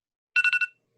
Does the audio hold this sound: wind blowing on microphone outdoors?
no